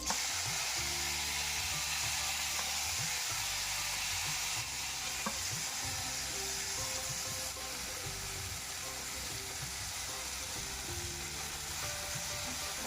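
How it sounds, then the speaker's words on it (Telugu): Washed mint leaves fry in a little oil, a constant loud sizzle and hiss with occasional stirring scrapes, steady throughout and close up, with faint talk beneath. "దాంట్లో శుభ్రంగా తరుక్కున్న పుదీనా ఆకులు నూనెలో వేపాలి"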